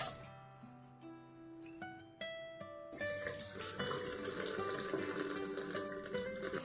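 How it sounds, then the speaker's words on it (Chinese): Glutinous rice being rinsed under running tap water in a bowl, a steady faint rush of water starting a few seconds in after quieter tones. "用清水清洗干净。"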